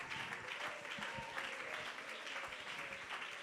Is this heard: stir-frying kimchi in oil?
no